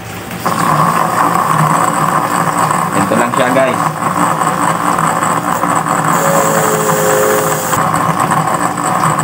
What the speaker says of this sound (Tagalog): Yan, paikutin natin ating motor.